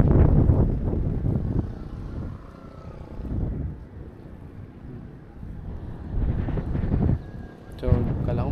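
Strong gusts buffet the microphone outdoors beside a river that flows from Mount Pinatubo toward the sea in Zambales. A loud, rolling low rumble swells and fades while people talk over it.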